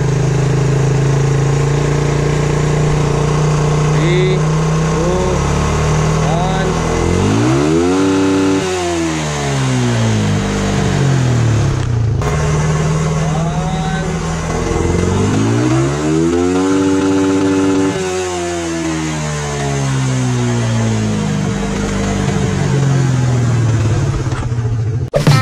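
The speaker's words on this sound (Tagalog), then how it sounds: "Full throttle tayo." A carbureted Suzuki Raider 150 motorcycle with a 6-speed gearbox is ridden at full throttle, its engine screaming loud and close as the revs climb and drop in repeated sweeps through the gear changes, with no talk over it.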